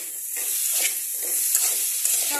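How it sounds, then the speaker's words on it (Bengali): Cumin powder and ginger paste fry in a pan, making a short, bright hiss of sizzling oil with a few soft stirring scrapes, fairly loud and close. "সবগুলো একসাথে ভালো করে একটু কষিয়ে নেব"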